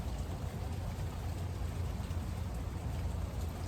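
Rain pours down steadily in a public park, a dense, even wash of falling water with no voices, close and unbroken from start to finish.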